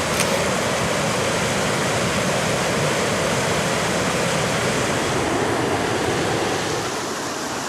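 Recollect Falls, a waterfall on the French River in Ontario, pours in a steady, loud broadband roar that holds unchanged from start to finish, with no voices over it.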